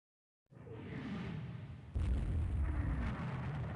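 Naval gunfire rumbles in the Rule the Waves 2 warship battle: a deep, sustained roar of distant shelling that swells sharply into a louder, heavier barrage about halfway through, with no voices.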